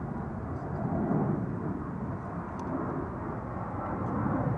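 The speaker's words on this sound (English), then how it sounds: "Departure from the center runway. Vueling A321 to Barcelona." A Vueling A321 airliner departs from the center runway at Schiphol Airport, giving a steady, broad jet roar that stays distant and continuous throughout with little change in loudness.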